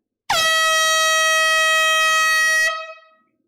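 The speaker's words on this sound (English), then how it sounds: "I love the sound of an air horn in the morning." One loud, sustained air horn blast, a bright brassy tone held for over two seconds before cutting off and ringing out.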